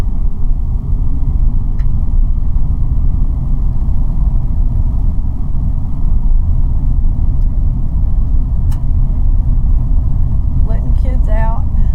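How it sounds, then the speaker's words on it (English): A school bus drives along a rural backroad, heard as a steady low engine rumble and road noise that holds throughout from a car interior, with no clear pass-by swell. "Got a school bus up here."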